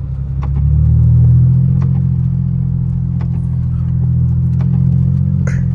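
A Mercedes W210 sedan cruises with a loud, steady low engine and road rumble heard from inside the cabin, swelling slightly early on, with light clicks and rattles over the drone and no talking.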